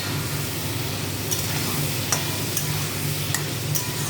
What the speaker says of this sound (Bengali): মশলা থেকে তেল ছেড়ে দিয়েছে, এবার আমি আলুগুলো দিয়ে দেবো।